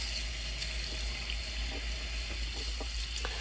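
Mackerel fish are washed under a running tap, with a constant spatter of water and faint splashes and knocks of handling close by.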